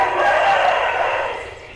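Several roosters crow together in a sustained chorus. The crowing is loud and close and fades slightly toward the end, with no talk over it.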